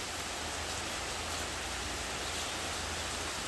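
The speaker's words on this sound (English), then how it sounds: "I'm standing here right now as it is absolutely pouring rain" Heavy pouring rain hitting a hurricane screen, a dense, steady hiss of drops with no pauses, close and enveloping, with no voices.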